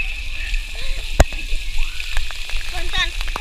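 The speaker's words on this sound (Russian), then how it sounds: "Фонтан, фонтан, фонтан." Water splashing and sloshing from a fountain at a water park, lively and close, with a sharp splash near the start and children's and adult voices chattering over it.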